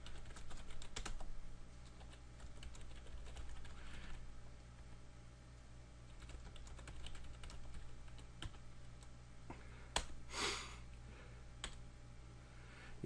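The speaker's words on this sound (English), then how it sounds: "You type in text here as you format it." Soft, fast clicks of typing on a computer keyboard run in irregular bursts, faint and close against a quiet room hum.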